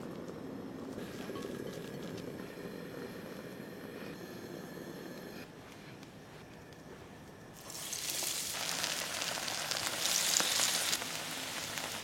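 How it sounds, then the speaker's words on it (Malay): Spinach masala vadai fry in hot oil with a soft, steady sizzle that swells into a louder, brighter hiss partway through, with no voices. "Okay, once kita dah letak dalam minyak, jangan kacau dulu."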